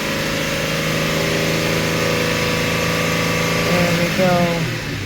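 A car engine idles steadily with a rough, doubled ignition beat, the spark firing twice per cycle. The hum runs loud and continuous and rises slightly in pitch near the end.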